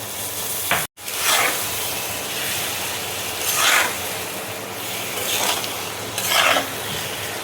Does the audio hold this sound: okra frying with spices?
yes